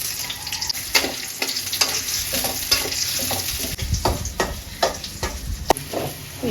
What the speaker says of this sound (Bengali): কড়াইটা গরম হয়ে গেছে, তেল দিয়ে দিলাম, পেঁপে বাগার দিব এটার মধ্যে।